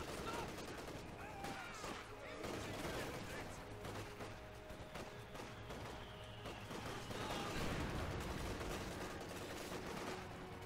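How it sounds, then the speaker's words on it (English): Heavy mortar fire in a Company of Heroes 2 battle: dense, continuous booms and crackling gunfire layered in a busy wartime soundscape, fairly distant and muffled, with voices talking over the top. "this guy's heavy mortars are getting on my nerves"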